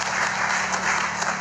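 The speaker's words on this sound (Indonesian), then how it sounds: "tepuk tangan yang meriah buat beliau." Audience applause at an Indonesian political event announcing a vice-presidential candidate, a dense steady wash of many hands clapping throughout, fairly loud and continuous with no voices over it.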